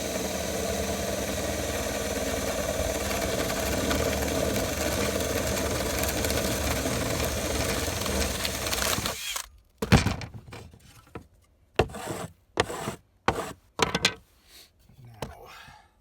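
A 1.5 inch auger (paddle) bit in a power drill bores into a board during an RV roof replacement, a steady close motor whine for about nine seconds that then stops, followed by scattered short knocks and handling noises.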